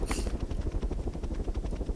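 An Arma 3 video-game helicopter gives off a steady, rhythmic rotor chop with low thudding pulses and a brief burst of higher whine at the start. It is fairly close and continuous, with no talking.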